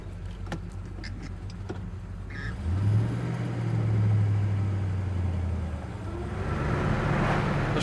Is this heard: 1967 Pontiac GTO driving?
yes